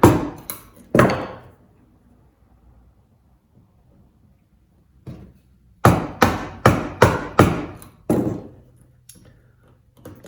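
A mallet strikes a chisel while cutting a mortise in a timber mallet head, giving sharp, close wooden knocks. Two blows land early, then after a pause comes a quick series of about six evenly spaced strikes, followed by a softer tap.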